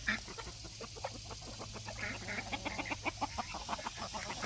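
Chickens clucking outdoors near ducks and guinea birds, a steady run of short, close clucks that quickens and grows louder in the second half, over a low hum.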